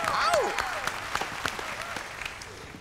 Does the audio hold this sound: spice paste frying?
no